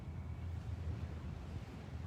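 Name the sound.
ocean waves at the beach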